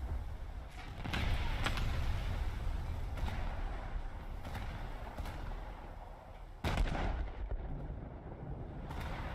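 HMS Hood's heavy naval guns fire in a War Thunder naval battle, with several deep booming shots spaced a few seconds apart over a low, rumbling game background.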